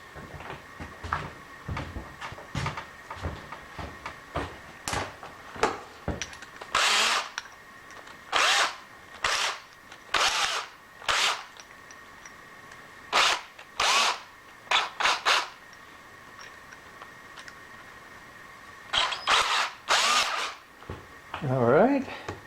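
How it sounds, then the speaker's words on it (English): A power drill with a bit, used while rebuilding a belt disc sander, whirs in short repeated bursts separated by pauses and handling clatter, close by. "let's go to this size drill bit and see what we can come up with"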